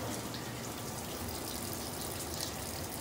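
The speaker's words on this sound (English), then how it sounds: "Having dirty water come out of your spigots is not uncommon after changing an anode rod" Water gushes steadily from an outdoor spigot on a water heater system just after an anode rod change, flushing sediment-laden water from the tank; a continuous broadband rush, close and even throughout.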